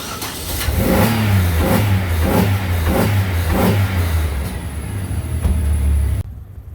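A 2006 Buick LaCrosse's naturally aspirated 3.8-litre V6 revs hard several times in quick succession, loud and close, with a steady idle rumble underneath, then cuts off abruptly.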